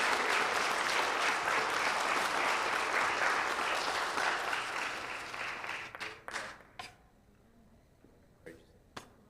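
Audience applause at a parent event fills the room loudly and steadily for about six seconds, then thins into scattered claps and fades, with a few isolated claps near the end.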